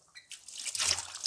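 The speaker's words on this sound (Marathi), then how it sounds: "आपण आता हे लिंब स्वच्छ धुवून घेऊयात." Water trickles and drips while lemons are rinsed clean for homemade lemon pickle, a soft, close splashing that builds and stays steady for about a second, with no talk.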